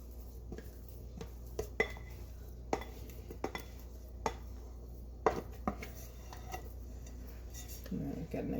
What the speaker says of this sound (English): a bowl scraper for dough, and I'm just going around the edge of the bowl